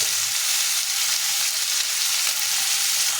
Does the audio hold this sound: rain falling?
no